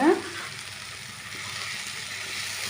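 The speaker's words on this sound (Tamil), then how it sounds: "இந்த அவலக்கி அப்படியே இந்த தாளிப்புல போட்டுடலாம்" Flattened rice (avalakki) tipped into a hot tempering in a pan, a soft, steady sizzle that stays low and even after a brief initial hiss.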